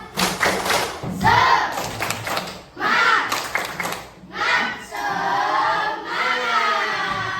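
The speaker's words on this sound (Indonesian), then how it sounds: "Tepuk semangat." A school class claps together in a chanted rhythmic spirit-clapping pattern, with bursts of voices shouting along between rounds of clapping, loud and close.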